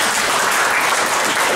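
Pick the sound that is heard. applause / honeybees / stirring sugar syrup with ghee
applause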